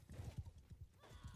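Horse hooves clip-clop in quick uneven beats in a video game match, with a rearing horse giving a brief whinny near the end, moderately close and without talk over it.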